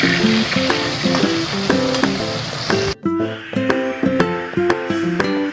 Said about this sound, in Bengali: মাথাগুলো ভেজে নিচ্ছি।